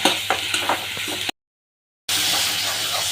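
Tomatoes sautéing in a pan for a breakfast pasta give a steady, close sizzle with occasional stirring scrapes, broken by a brief silent gap before the frying hiss resumes.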